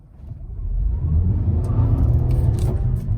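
A 2020 Toyota RAV4 Hybrid pulls away and turns left on smooth pavement, its engine and road rumble swelling into a steady low drone heard from inside the cabin, with faint light rattles near the end.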